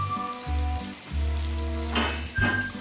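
Chopped garlic and green chillies frying in hot oil for a Kerala chicken curry, a close, steady sizzle with short breaks as the pan is stirred.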